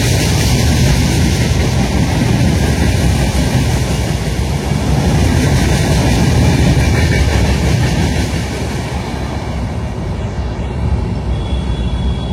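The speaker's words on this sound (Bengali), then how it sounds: "আর 23-11 লোকোমোটিভ নিয়ে শ্যামপুর প্রবেশ করলো" Commuter train hauled by locomotive 23-11 pulls into Shyampur station heading for Dhaka, a loud continuous rumble and wheel roar sustained throughout, easing slightly near the end.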